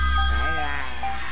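A telephone rings on the set of a live Indonesian TV variety show during a viewer call-in segment, the steady electronic tone sounding loud and continuous with a hum beneath it.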